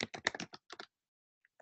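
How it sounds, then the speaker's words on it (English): Quick bursts of typing on a computer keyboard while entering a comment, about a dozen crisp clicks in a fast run, then a pause and a couple of faint isolated taps. "I'm going to type it right here in the comments."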